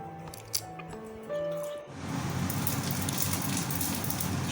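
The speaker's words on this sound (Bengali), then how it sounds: "শুকনো লঙ্কা আর এলাচ, লং, দারচিনি ফোড়নে দিয়ে 2-3 সেকেন্ড আমি নেড়ে নিচ্ছি।" Whole spices (bay leaf, cumin, dried red chilli, cardamom, clove, cinnamon) dropped into hot white oil in a kadai, bursting into a dense, steady crackling sizzle after a quieter start, close and loud, no talk.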